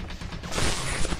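A loud, close explosion in the Roblox game Cryptik hits partway in as a broad blast that lingers as a rumbling roar to the end.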